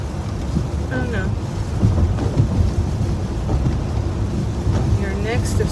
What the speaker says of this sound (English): It's raining outside, not inside.